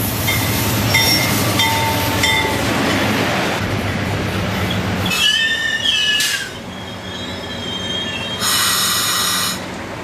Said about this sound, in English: U-boat 4176 arrives at the head of train 1035